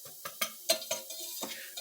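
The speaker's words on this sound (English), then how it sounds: "you wait until you can see the fat in the flour, the butter in the flour, starting to sizzle" A butter and flour roux sizzles in a pan, with soft crackling bursts and several sharper clinks and scrapes of a utensil stirring against the pan, close and fairly quiet, with no talking.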